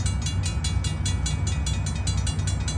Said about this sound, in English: Our train is just coming out of that zone, re-entering 10-mile-per-hour track.